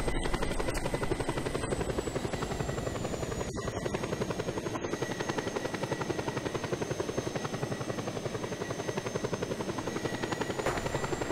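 Helicopter coming in to land in the Just Cause 2 multiplayer video game, its rotor chopping in a steady, loud, continuous drone throughout, with no talking.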